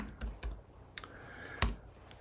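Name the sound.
typing a word on a computer keyboard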